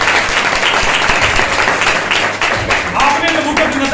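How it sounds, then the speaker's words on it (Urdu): A congregation at a thanksgiving worship service held in a home bursts into loud, dense applause, with a voice speaking over the clapping throughout. "زوردار تالیاں لگائیں اس بات پر."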